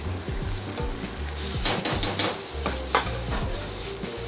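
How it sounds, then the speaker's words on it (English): Meat searing in a pan in a busy Italian fusion restaurant kitchen, a loud continuous sizzle with crackling bursts and faint clinks of cookware, close up and with no talking. "We've been searing for a while"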